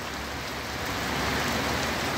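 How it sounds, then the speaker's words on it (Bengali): Steady, dense rain pours down during a storm, a loud continuous hiss of drops striking surfaces with no speech over it. "এটা অবশ্য ঝড়ের গতিতে বৃষ্টি এবং তার সাথে ঝড় দুইটাই একসাথে বইছে।"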